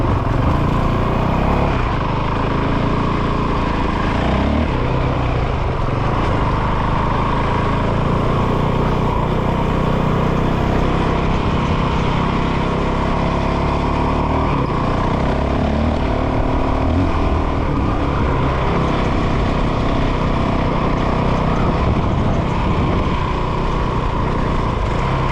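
A Honda motorcycle engine runs steadily throughout on a trail ride, a continuous loud drone with rough low-end rumble and wind buffeting mixed in.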